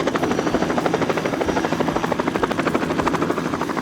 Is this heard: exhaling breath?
no